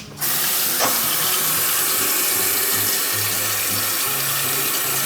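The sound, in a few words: tap water running from a kitchen faucet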